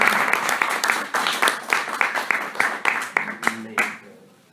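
Applause from a lecture audience after a talk on Proust's theory of love, with brisk, uneven clapping that thins and fades out by the end.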